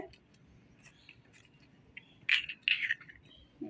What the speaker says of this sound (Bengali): একটা হাঁসের ডিম